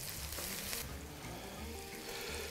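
A bell pepper sauce left cooking in a pan, giving a steady, quiet sizzle and bubbling hiss that runs unbroken through the whole moment with no voices.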